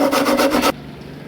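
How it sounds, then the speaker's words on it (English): A brief burst of rhythmic abrasive rubbing, like sandpaper scraping wood in quick back-and-forth strokes while replacing a guitar head, stops abruptly into quiet. "And then some sanding"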